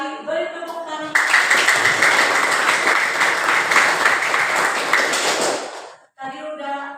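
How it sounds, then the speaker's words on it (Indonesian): Classroom students burst into a dense round of clapping that lasts about five seconds, with a teacher's voice just before and right after. "Beri tepuk tangan."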